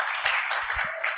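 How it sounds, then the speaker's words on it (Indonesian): Audience applause breaks out at a school photography and journalism extracurricular workshop, a short, close burst of clapping. "Tepuk tangan dulu."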